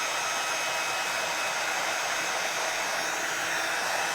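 A crafting heat tool blows hot air to melt embossing powder on photo paper, giving a loud, steady, continuous whooshing hum that holds unchanged throughout with no talking.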